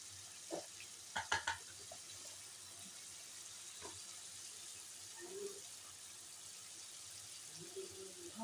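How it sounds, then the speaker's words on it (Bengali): Fried potatoes sizzle quietly in a pan with salt and turmeric, a soft steady hiss broken by a few clinks of a utensil stirring the pan. "এবার এর মধ্যে ভাজা আলুটা দিয়ে দেবো"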